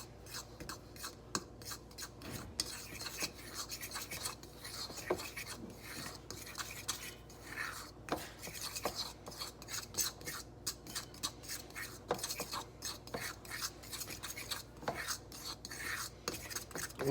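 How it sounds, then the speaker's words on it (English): A fork stirs cookie dough ingredients, salt among them, in a bowl, giving a steady run of close scraping, rasping strokes with light clinks, continuing alone without talk. "I can just grab my fork here. We're just going to give this a stir in here."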